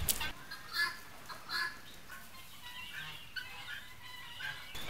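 Guinea fowl and geese kept together in a coop give faint, scattered clucks and calls over a quiet background.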